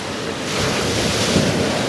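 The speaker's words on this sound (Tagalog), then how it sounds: "malalaki ang alon" Large ocean waves surge and wash around a fishing boat on the open sea at night during tuna fishing, a steady broad roar with wind buffeting the microphone, no voices present.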